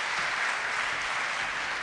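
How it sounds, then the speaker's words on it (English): Audience applause fills a large hall at a soccer awards ceremony in Dubai, a steady dense wash of many hands clapping close and loud throughout, with no voices over it. "Put your hands together for Zlatan and Sergio."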